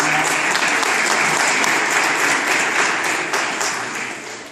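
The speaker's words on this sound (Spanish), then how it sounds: "Un aplauso a los que vinieron ayer." Steady applause from an audience gathered for a family spiritual retreat session, dense clapping filling the room and slowly tapering toward the end, with no talk over it.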